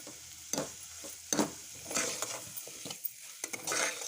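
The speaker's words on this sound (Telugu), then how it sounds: "పన్నీర్ వేసుకున్న తర్వాత ఈ 1 మినిట్ ఫ్రై అయితే సరిపోతుందండి" Cubes of paneer frying in a pan for a sandwich curry, a soft continuous sizzle broken by several sharp scraping stirs of a spoon, close and fairly quiet, with no talking.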